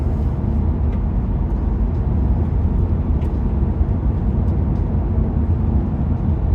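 An electric car cruises steadily on cruise control, giving a constant low rumble of road and tyre noise with no changes in speed.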